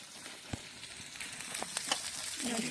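Onion sizzles in hot oil for a vegetable Manchurian sauce, a steady frying hiss with occasional faint stirring clicks.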